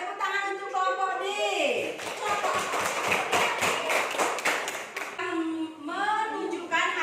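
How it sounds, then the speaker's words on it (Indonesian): Children in a classroom clap in a quick burst of applause for a student group, the clapping sitting in the middle between stretches of a teacher's close, sung-out speech. "tepuk tangan untuk kelompok D"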